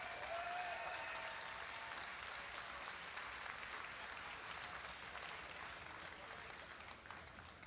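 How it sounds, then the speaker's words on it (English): A large arena crowd applauds the champion of the StarCraft II Grand Finals at BlizzCon 2010, a sustained, even wash of clapping that tapers slightly toward the end. "Huge round of applause again to your champion"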